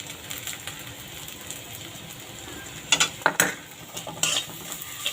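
Egg and onion, seasoned with salt and turmeric, fry in a pan with a soft, steady sizzle. Several sharp spatula scrapes and clinks against the pan break in near the middle and end.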